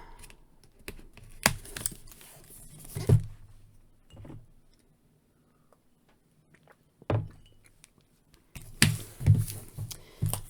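Tape on a Marvel Legends action figure box is cut and picked at with a blade, making scattered close clicks, scrapes and taps in short bursts separated by quiet pauses.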